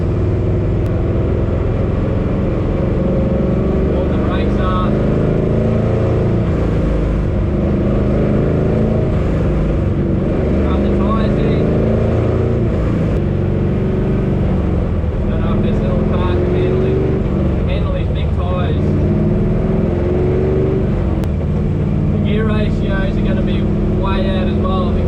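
Lamborghini heading out for a couple of track laps: loud, continuous engine drone with shifting pitch, close and constant throughout, with a voice talking over it at times.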